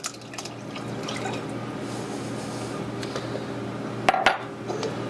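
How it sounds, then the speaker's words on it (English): Buttermilk poured into a bowl in a kitchen, a soft steady trickle with faint drips and a couple of sharp clinks of dishware near the end. "We're going to add 1 1/3 cup of buttermilk."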